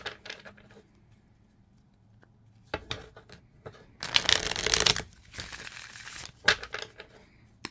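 Tarot cards riffled and shuffled close up: scattered soft flicks, then two longer bursts of crisp rapid riffling.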